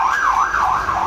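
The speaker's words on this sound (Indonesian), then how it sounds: "agak bising karena ada kendaraan yang lalu lalang" Beside a roadside motorcycle workshop, a loud wailing emergency siren rises and falls in a steady cycle as traffic passes nearby.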